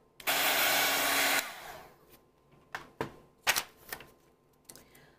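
A heat gun blows a steady, loud broadband whoosh over wet watercolor paint on paper for about a second, then cuts off, followed by a few scattered clicks and knocks.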